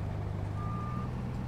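Continuous reversing beeps from a straight truck backing up on a Nebraska farm grain-drying setup, a steady high tone over a loud rumbling diesel engine.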